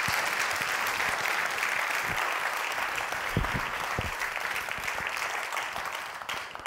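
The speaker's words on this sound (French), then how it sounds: "Applaudissez-le très fort, Laurent Seco." A theatre audience applauds a performer during a cultural season presentation, with thick, continuous clapping filling the hall at a steady level and a few sharper individual claps standing out before it begins to ease.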